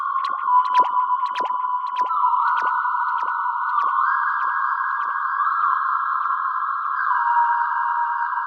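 A synthesized haunted-forest sound: a sustained eerie tone that steps in pitch, with sharp ticking pulses repeating as ping-pong delay echoes. Clear and alone, no voices.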